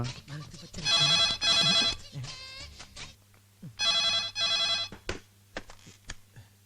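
A telephone rings indoors in repeated electronic bursts, two short rings, a pause, then two more, with a voice talking in the gaps and a low steady hum underneath.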